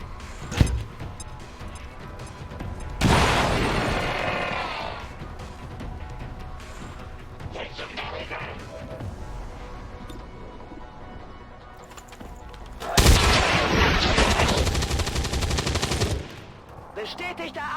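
Gunfire and a grenade blast in the XCOM 2 video game: a sharp crack, then a long roaring burst of automatic fire, and later a second loud explosive burst, close and heavy, with game noise between.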